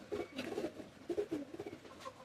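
A pair of large, slender 128-breed pigeons, a hen and a cock, give soft repeated coos in short rhythmic bursts, faint and close in a quiet space.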